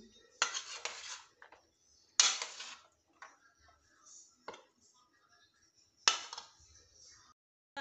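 A spoon stirs chana chaat ingredients in a bowl, giving bursts of close metallic scraping and clinking separated by quiet pauses.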